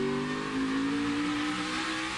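NASCAR race car at Martinsville's 2017 fall playoff race, engine held at part throttle with a steady mid-pitched drone that rises gently in tone, loud and continuous throughout.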